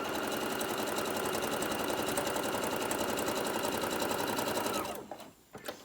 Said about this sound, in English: now I'm gonna sew the other side